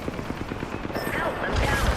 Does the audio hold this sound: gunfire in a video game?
yes